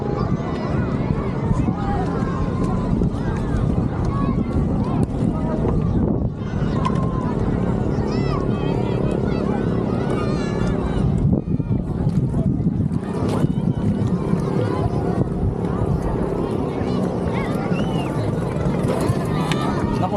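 A twin-engine boat's engines drone continuously under gusts of wind buffeting the microphone, with people talking now and then over the noise.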